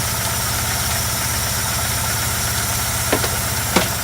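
An Opel Manta engine with timing problems idles in a loud, steady, rhythmic throb, with a couple of brief clicks near the end.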